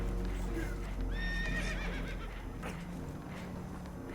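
A spooked horse in the video game Red Dead Redemption 2 whinnies in a rising, wavering neigh over clopping hooves and a steady background rumble, with voices faintly present.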